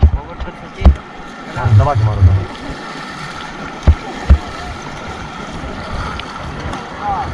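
An inflatable raft is paddled through a river rapid on the Ganges at Rishikesh, with rushing water, splashing and a few sharp paddle thumps, and voices call out now and then over the churn.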